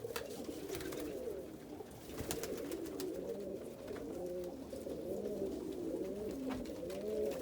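Andalusian pigeon cockbird cooing steadily as he drives a hen inside a pigeon loft, with repeated rolling coos layered over other birds calling nearby and occasional wing flaps.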